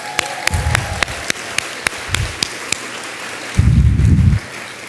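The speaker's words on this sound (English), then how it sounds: "I'd like to give a little clap for that." Audience at an awards ceremony for entrepreneurs giving a brief, sparse clap, a few scattered distinct claps with low rumbling bursts in between, moderately close.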